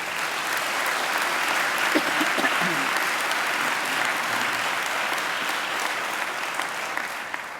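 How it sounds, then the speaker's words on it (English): An audience at a university graduation ceremony claps in a full, sustained round of applause that stays even and steady throughout, with a few faint murmurs beneath it. "I think he deserves another great round of applause"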